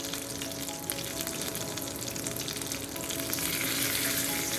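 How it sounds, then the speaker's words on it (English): Curry powder sizzles as it fries in hot oil with thyme for a Jamaican-style oxtail curry, a steady, dense crackle that swells slightly louder toward the end, with no talking. "putting about a quarter teaspoon of curry to burn"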